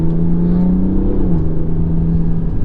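BMW 330d F30 saloon with a Stage 3 hybrid-turbo diesel engine pulling hard under steady acceleration, a close droning engine note rising in pitch from inside the cabin, with constant road rumble underneath.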